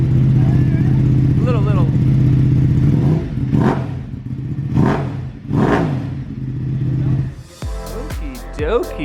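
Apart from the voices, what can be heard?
Ducati Panigale V2 motorcycle engine running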